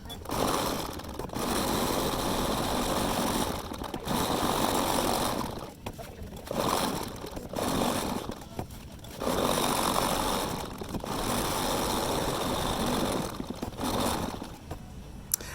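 Bernina embroidery machine stitching cutwork embroidery, a loud, steady buzzing run broken by several brief stops and restarts, close up with no talk.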